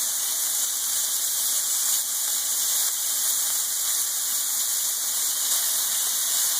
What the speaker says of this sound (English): I take a very hot pan and I separate all of the slices and we're just going to fry up some bacon